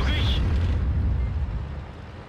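A heavy boom from an O-I tank in a Stalingrad World War II game opens with a sharp burst, then a deep rolling rumble tails away; there is no speech.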